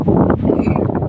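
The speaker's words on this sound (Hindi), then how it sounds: "कितनी बहुत तेज हवा चल रही है यार" Strong wind at the seashore at Dhanushkodi roars in a continuous, loud buffet against the microphone, with gusty rumble throughout and no clear speech.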